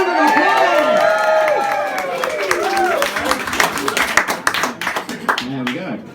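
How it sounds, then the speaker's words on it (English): Audience applause at an auction right after the gavel falls on a sale, a crowd clapping steadily and fairly loud with some voices and cheers mixed in over the whole stretch. "Round of applause!"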